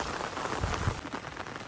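Heavy rain pours down in a forest, a dense, steady hiss of drops hitting leaves and ground with a few louder close spatters, heard alone.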